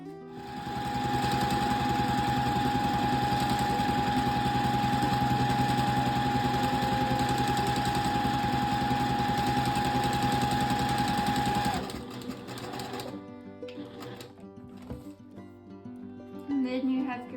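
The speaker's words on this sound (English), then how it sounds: "I'm just going to take the template and sew all the way around it within 1/4 inch seam allowance." A sewing machine runs steadily for about twelve seconds while stitching around a fabric template at a quarter-inch seam allowance, then stops, leaving quieter handling sounds.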